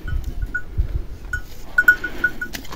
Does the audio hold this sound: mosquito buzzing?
no